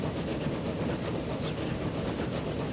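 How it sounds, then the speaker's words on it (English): A passenger train labours up a hill on an 1878 European rail line in the Transport Fever game, giving a steady, dense rumble with faint rhythmic clatter and no voices. "Train struggling with the hill."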